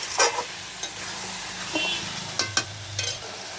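Spicy chicken is stir-fried in a pan over a wood fire, producing a close sizzling hiss punctuated by sharp scraping and stirring strokes of a spatula over a few seconds.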